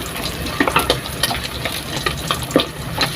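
Vegetables go into a pot of boiling beef broth for Filipino nilagang baka, giving a bubbling, sizzling wash of liquid with scattered clicks and splashes from stirring and ingredients dropping in. No one speaks.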